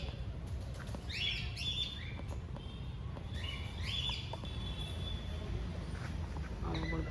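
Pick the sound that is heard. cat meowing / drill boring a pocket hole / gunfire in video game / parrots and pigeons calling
parrots and pigeons calling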